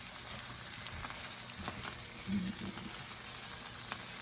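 Burger patties sizzle in grease on a grill, a steady, close frying hiss with faint crackles and pops running evenly throughout.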